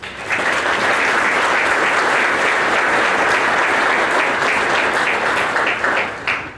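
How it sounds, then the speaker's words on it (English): Audience at a radio astronomy anniversary event breaks into loud, sustained applause, many hands clapping densely for several seconds before tapering off. "Let's give them a round of applause."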